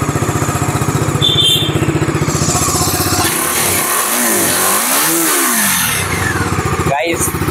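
A 2021 Bajaj Dominar 250 motorcycle with dual-channel ABS idles with a steady, throbbing thump, then its engine is revved up and down a few times, loud and close, with voices in the background.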